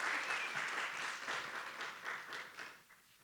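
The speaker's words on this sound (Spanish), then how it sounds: "Les pido un aplauso, por favor" An audience at an academic panel discussion claps in steady applause that fills the room and then fades out toward the end, with no one speaking.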